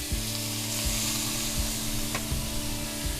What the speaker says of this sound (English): So you hear that sizzle? That's what you want.